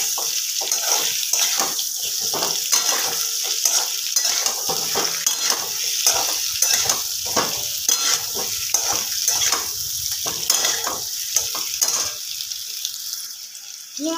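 Potatoes fry in oil with a constant hissing sizzle, broken by repeated crackles and bursts as they are stirred, close and steady for the whole stretch, with no voices.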